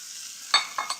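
Onions and meat fry in a pan with a steady high sizzle, then a few louder scraping stirs toward the end, close and with no voices.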